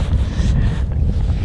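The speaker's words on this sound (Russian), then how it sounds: "Но ветер холодный, хоть и не очень сильный," Steady, blustery cold wind rumbling across the microphone on the Angara River, with a constant low roar and faint hiss, no voices.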